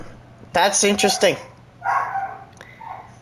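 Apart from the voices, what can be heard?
dog barking indoors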